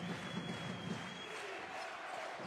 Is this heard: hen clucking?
no